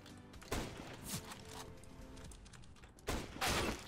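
Sharp bursts of gunfire in the video game CS:GO, a few loud volleys spaced apart over a busy, noisy game background with clicking.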